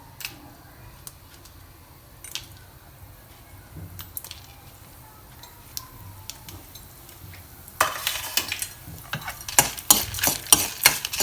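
Urad dal, dried red chillies and pepper roasting in a pan for curry leaf thuvaiyal, with quiet stirring scrapes early, then a louder burst of crisp rattling, clinking and sizzling toward the end, no voices.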